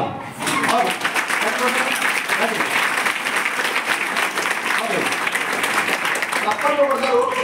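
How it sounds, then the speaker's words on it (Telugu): An audience at a motivational talk claps loudly and continuously in a dense, sustained burst of applause that fills the whole stretch, with a brief dip near the middle before swelling again. "గట్టిగా చప్పట్లు కొట్టాలి."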